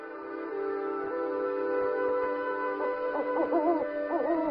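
Owls hoot in a snow-covered forest in late winter, with several soft, tonal calls rising from about midway against a steady low background hum.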